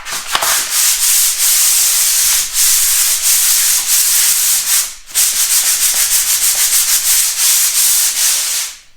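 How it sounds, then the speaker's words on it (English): A 120-grit pole sander rubs over a painted feature wall, giving a steady, loud broadband scraping in repeated long strokes with a brief pause midway, no voices. "I can get on there now with the sander. I'm going to be using 120 grit on the sanding pole"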